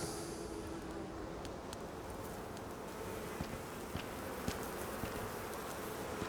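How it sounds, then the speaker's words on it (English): Bees in the survival game Icarus hum in a constant, even drone with no gaps, heard without any talk. "I'm wondering if these bees are actually going to attack us."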